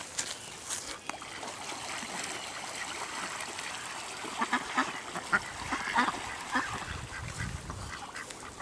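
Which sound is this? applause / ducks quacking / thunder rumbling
ducks quacking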